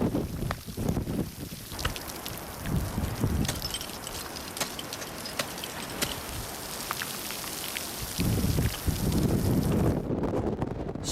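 Strong wind gusts of about 70 miles per hour buffet the microphone in rough, roaring bursts, swelling loudly at intervals over a constant rushing background.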